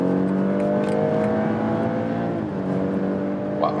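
A BMW X3 M40i accelerates under full throttle in normal mode, a loud, close engine note rising steadily in pitch with a smooth, continuous roar for a few seconds.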